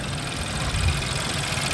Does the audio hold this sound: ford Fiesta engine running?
yes